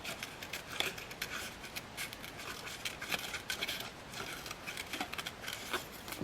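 Rapid, crisp snips and rustling of scissors slicing through paper, close by and continuous, with a quick irregular rhythm.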